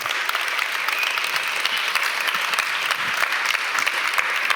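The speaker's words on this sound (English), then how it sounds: "Please, everyone, give a big round of applause for Professor Dr." An audience applauds at a university symposium, a dense and even wash of clapping held steady and loud throughout.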